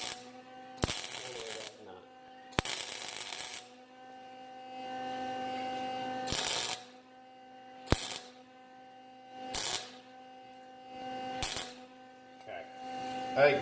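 A welder burns a nut onto a broken bolt on a Chevy Malibu, with several separate crackling bursts of a few seconds each over a steady electrical hum.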